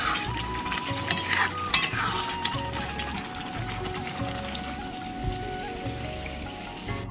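Pointed gourd and fish with potatoes fry in a pan, giving a steady crackling sizzle broken by stirring scrapes and clatters, close and loud with no talking.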